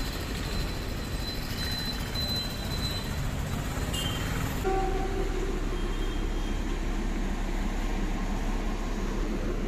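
Continuous low rumble and hum at Bilimora station beside a narrow gauge train, a steady rail-yard drone with faint tonal whines and no talk.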